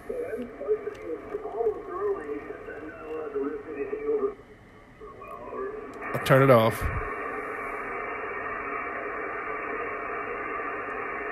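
Weak single-sideband ham radio signal received on a Yaesu FTdx10, a faint voice buried in steady hiss with noise reduction switched on, while a person talks over it and a brief squelchy burst breaks in partway through.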